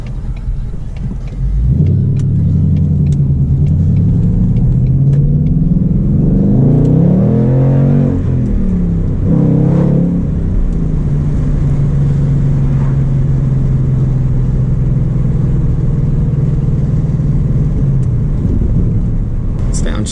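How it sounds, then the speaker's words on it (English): A car with a Coyote engine accelerates in a loud, close, in-cabin roar that climbs and falls through the revs, then settles into a steady drone after a downshift, with someone talking over it. "Downshift to third. Downshifts are smooth today."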